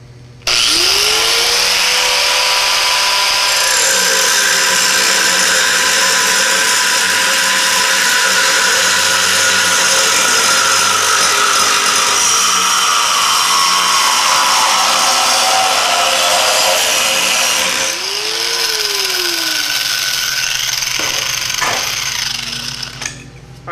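An angle grinder with a new grinding disc cuts through metal, a loud continuous high whine that spins up, holds steady for about fifteen seconds, drops off, then spins up again for a second cut.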